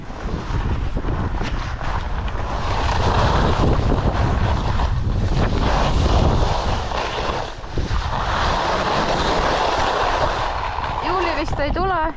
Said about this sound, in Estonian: see ilm on palju külmem, tuulisem.